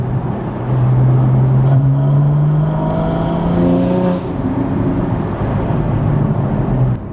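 A loud Porsche GT4 engine accelerates hard and close, its drone climbing in pitch, dropping at a gear change, then pulling again.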